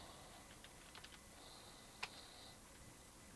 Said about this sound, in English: And here you want to type in localhost.